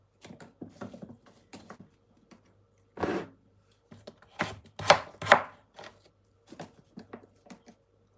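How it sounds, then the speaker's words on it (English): Knife chopping through washed sweet potato on a board: a run of irregular, close, crisp taps, some clustered and a few louder strikes, with no talking. "Chop up my sweet potato"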